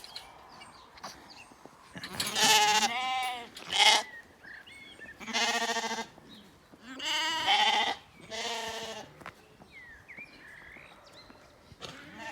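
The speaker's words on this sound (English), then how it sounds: "Of course, the lambs are enjoying themselves." Lambs bleating in a field beside a garden in late April, several loud, wavering bleats in turn with short gaps between them, fairly close, with faint birdsong in the background.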